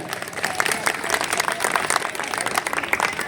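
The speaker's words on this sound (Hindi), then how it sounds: "जोरदार तालियों से हार्दिक अभिनंदन और स्वागत करें।" Audience at a ceremony on Lodhi Road in New Delhi applauds steadily, a dense patter of many hands clapping at moderate volume for a few seconds.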